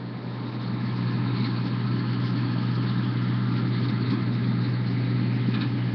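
A big farm tractor's engine running in a steady, low, droning idle, close and loud with no pauses.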